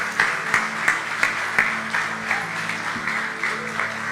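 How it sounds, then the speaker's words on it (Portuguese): Church congregation applauding in a Brazilian Assembly of God hall, a steady bed of many hands clapping with a few sharper claps standing out, roomy and continuous, with a low sustained tone humming beneath. "Uma salva de palmas, queridos, por favor."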